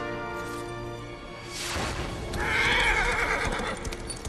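A horse neighs loudly in Darksiders III, a sharp whinny rising out of game music and ambience, with hoofbeats and rumbling effects around it.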